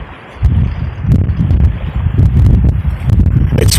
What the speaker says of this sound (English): It's really windy here today.